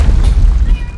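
A heavy low boom of a grenade going off in a shooter video game rumbles loud and close, filling the second with a deep, decaying thud.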